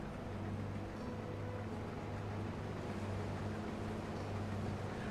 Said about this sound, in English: I feel like they made tractor noises less loud in this version.